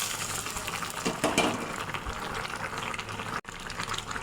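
A tempering of bay leaf and whole cumin, fried in hot oil, is poured into a tilapia fish curry with yellow cauliflower and potato, giving a steady close sizzling hiss that surges briefly before settling.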